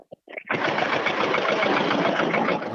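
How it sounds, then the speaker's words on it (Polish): Farm tractor passing close by on a country road beside a walking pilgrimage to Jasna Góra, a loud dense rattling engine roar that starts abruptly after a few short knocks and holds steady. "Właśnie mija nas pan z ciągnikiem"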